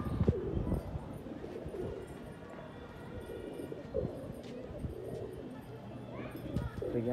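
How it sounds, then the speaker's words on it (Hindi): Pigeons coo softly in the background amid rustling and scattered bumps, with people talking quietly nearby. "देखिए हमारा कबूतर गूंज रहा है उसके ऊपर,"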